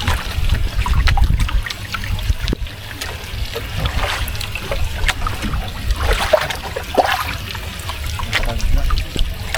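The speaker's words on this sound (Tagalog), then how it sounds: "Malaki alon." Sea water splashes and sloshes around a small fishing boat in northeast monsoon swell, with irregular bursts of spray and low rumbling wash over a steady churning background, loud and close.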